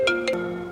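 A mobile phone ringtone signals an incoming call, a short bright electronic melody of two quick chimes ringing loud and close.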